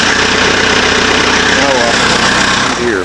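A JCB loader's diesel engine cold-starting on a farm, running loud and close with a rough, knocking idle and steady clattering pulses throughout, while a person talks over it.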